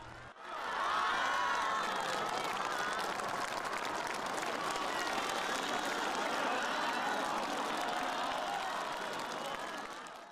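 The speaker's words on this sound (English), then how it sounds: "Xi was greeted by warm applause." Delegates to the CPC National Congress break into warm applause for Xi Jinping, a dense, sustained roar of many hands clapping in a large hall that swells quickly and holds steady for about ten seconds.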